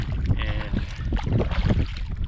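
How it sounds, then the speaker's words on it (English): A novice paddler drives a canoe along with a double paddle, giving watery strokes and splashes close by under wind buffeting on the microphone, with someone talking over it. "Using a double paddle, I can just do a lot more with it."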